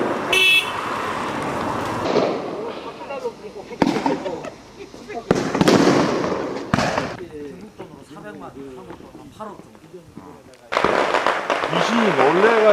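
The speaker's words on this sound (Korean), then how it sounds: "장례식이 있는지 폭죽 소리가 요란하다." Firecrackers burst in loud, irregular volleys near a tomb during a funeral, sharp cracks separated by quieter stretches, with a car horn and people talking in the background.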